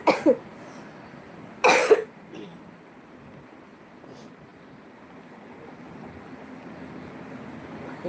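A person coughs twice in quick succession near the start, loud and close, followed by a quiet room with low background hiss and no talking.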